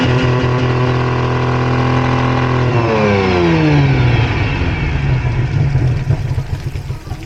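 A loud engine idles steadily, then revs up sharply, its pitch climbing and settling into a rough, higher roar.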